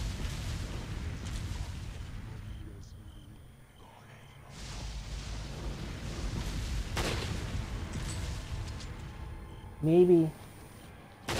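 Gunshots and booming blasts in the video game Resident Evil 4, a series of sharp reports and rumbling impacts scattered across the stretch, with a person talking over the game sounds.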